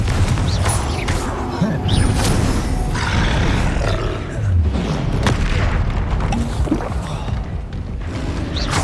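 Fiery Confringo explosion spells burst in Hogwarts Legacy combat, booming and roaring in a dense, continuous barrage of blasts, loud and close throughout.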